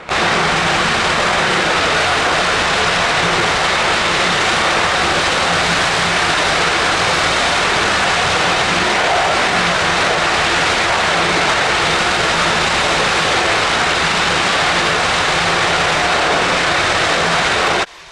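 An ONGC gas rig blowout fire at Irusumanda in Konaseema, Andhra, burns at night with a loud, unbroken, jet-like roar that holds steady throughout without pause.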